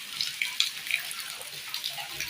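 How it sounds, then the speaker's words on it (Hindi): Rainwater gushes and splashes through flooded village streets after a night of heavy rain, a close, bubbly, uneven rush of flowing water. "देखिए बारिश ही बारिश।"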